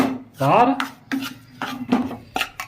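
Roasted flour being scraped out of a pan into a vessel while making jaggery pinni, giving a series of close, rasping scrapes of a utensil against the metal with short pauses between strokes.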